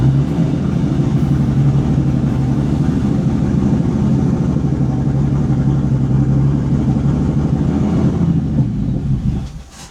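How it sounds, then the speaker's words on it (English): A Bentley engine idles and runs roughly after eight years without starting, a loud, steady low rumble with wind buffeting the microphone, which sags and dies away at the very end. "the car wasn't starting and now it started to start"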